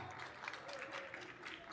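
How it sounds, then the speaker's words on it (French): Audience applause for YouTuber guests at a gaming convention conference in Montpellier, a steady wash of clapping from a crowd filling the room, moderately loud and continuous throughout. "applaudissements s'il vous plaît"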